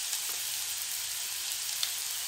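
Raw green papaya bhujiya frying in a pan with salt just added, a steady soft sizzle with faint stirring scrapes, close and continuous with no voices.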